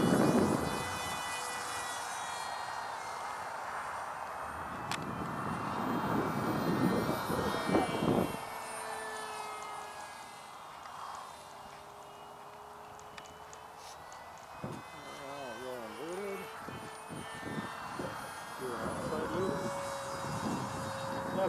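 A scratch-built 1/32 scale SR-71 pusher jet model flies overhead, its thin engine whine rising and fading as it passes at a distance, with voices talking intermittently over it.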